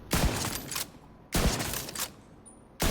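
Gunfire from the video game The Division 2. Three loud, sharp bursts of rapid shots, each roughly a half-second long, are separated by brief quieter gaps, with no one talking.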